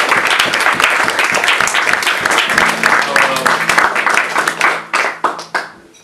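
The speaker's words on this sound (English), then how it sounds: "how about a round of applause for the folks at this house who have hosted this event?" Audience at a house concert in Portland, Oregon applauds the hosts, with dense clapping and a few cheers that thin out into scattered claps near the end.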